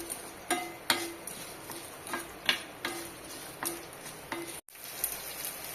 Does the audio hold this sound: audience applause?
no